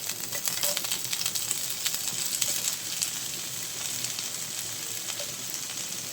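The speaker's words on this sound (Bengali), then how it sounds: "এগুলো ফ্রাই করে নেব ভালো করে" Chopped carrot, capsicum, ginger and ripe tomato fry in hot oil in a frying pan for basmati fried rice, producing a loud, dense crackling sizzle that runs steadily throughout with rapid popping ticks.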